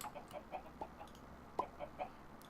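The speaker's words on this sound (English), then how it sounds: "Gold chickens." Gold chickens in the video game Sky Factory 3 cluck in short, soft, repeated calls over a low background hiss, with a slightly louder cluck midway.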